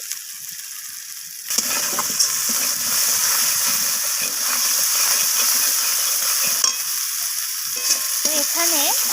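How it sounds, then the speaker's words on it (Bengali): Spice paste with coriander leaves being sautéed for an amudi fish oil-jhal curry. After a silent start, a close, steady sizzle begins and runs on with stirring scrapes throughout. "ধনিয়া পাতাটা দিয়ে আমি আবারও কষিয়ে নিচ্ছি"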